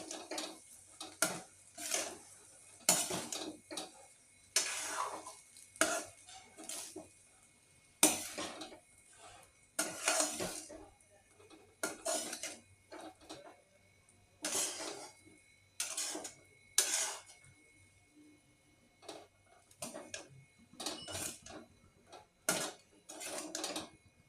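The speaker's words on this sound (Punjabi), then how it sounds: "ਲੋ ਚੌਲ ਅਸੀਂ ਪਾਤੇ ਆ ਚੰਗੀ ਤਰ੍ਹਾਂ ਹੁਣ ਇਹਨਾਂ ਨੂੰ ਹਿਲਾ ਲਾਂਗੇ ਅਸੀਂ" A metal spoon stirs rice in a cooking pot, with peas already in it, at an outdoor village setting in Punjab. Scrapes and clinks come in short, irregular bursts with quiet gaps between them, close and alone with no talking.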